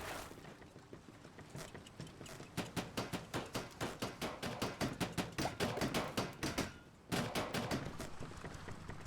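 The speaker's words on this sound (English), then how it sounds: "So let's repair the engine." Engine repair in the survival game Flotsam, a steady run of sharp rhythmic hammering knocks, evenly spaced and fairly loud, broken by a brief pause before the knocking resumes.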